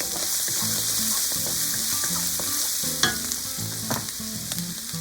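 Chili sizzles in hot cooking oil in a Thai kitchen pan over medium-high heat, a continuous crackle with scraping stirs and a sharper clink near the middle, while soft background music plays underneath.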